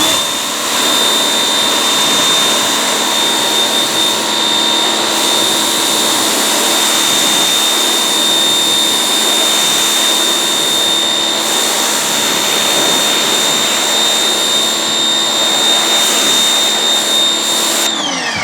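Pressure washer spraying a rinse over car paint to wash off sealant and cleaner, a loud, continuous hissing roar with a steady whine, close and unbroken throughout.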